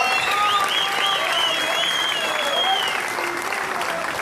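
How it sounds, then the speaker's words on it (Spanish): Audience applause at a school inauguration in Argentina, sustained clapping from a crowd, with whistles or cheering tones rising over it. "Y hoy aplaudimos porque es una situación feliz."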